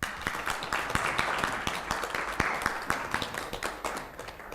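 A round of applause at a student senate meeting, a crowd clapping steadily with dense, irregular claps filling the room for several seconds.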